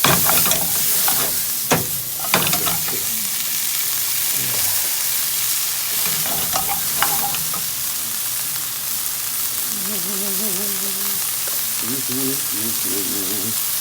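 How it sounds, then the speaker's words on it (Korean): Onions and vegetables stir-fry in a pan with a loud, steady sizzle and scraping stirs; a voice talks and music plays faintly underneath toward the end. "넣고 볶아줘야지."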